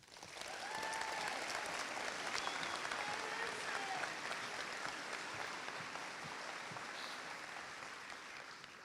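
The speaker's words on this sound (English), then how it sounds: "you walk across to the sound of applause like this" Steady applause from a university graduation ceremony audience in Hull, a sustained even wash of many hands clapping for several seconds, moderately loud, with faint voices beneath.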